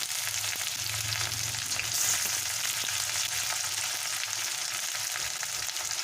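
Two large chopped onions fry in a pan with hot oil and whole spices, including bay leaf, giving a soft, steady sizzle and crackle with faint stirring and no talking.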